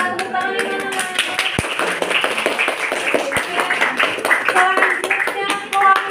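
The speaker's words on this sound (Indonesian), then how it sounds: "Terima kasih kelompok 2. Tepuk tangan di mana?" Students in a school classroom clap for a presenting group, uneven scattered hand claps at close range with overlapping chatter and voices throughout.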